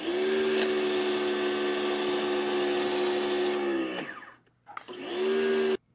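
A Yeryork electric pressure washer with a 0-degree nozzle sprays with a steady loud motor whine and hiss, winds down and stops briefly, then starts again before cutting off abruptly.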